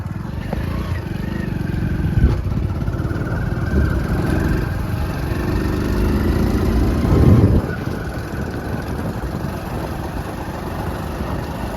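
A motorcycle rides along a rough farm road past cotton fields, its engine droning steadily with a brief rise near the middle, close and continuous under wind and road noise.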